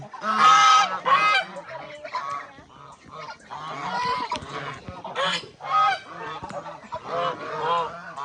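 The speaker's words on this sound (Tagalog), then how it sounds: "May ibon dito guys, so ang daming ibon." A flock of geese honks loudly and repeatedly on a small farm in Tanay, overlapping calls close by, with brief pauses between bursts.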